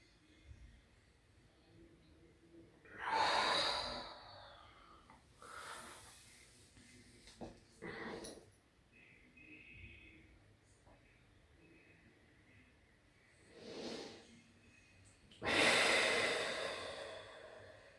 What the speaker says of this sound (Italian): In questo caso la respirazione è molto importante.